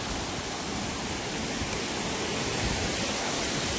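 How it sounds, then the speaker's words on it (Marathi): A monsoon waterfall in Chandranagar village, Dapoli, Konkan, with water rushing down from above in a steady, dense, forceful roar that stays constant throughout, close and loud with no voices. "वरून इकडे फोर्सने पाणी येतं आणि खालती धबधब्याच्या इथे जातं"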